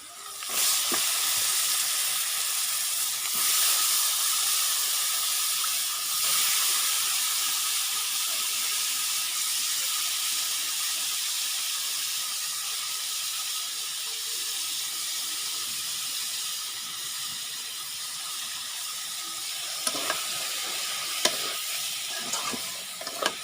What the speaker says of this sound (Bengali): মশলাটা হলো আমার কষানো হয়ে গেছে, এখন কাটা সবজি এখন দিয়ে দেবো